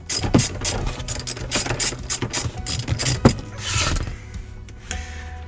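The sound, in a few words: ratchet with T50 Torx bit removing BMW E90 seat rail bolts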